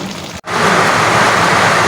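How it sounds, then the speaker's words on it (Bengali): Heavy rain pours outside in a dense, loud, steady hiss that drops out for a split second near the start, then resumes unbroken. "বাইরে প্রচুর পরিমাণে বৃষ্টি হচ্ছে প্রচুর পরিমাণে"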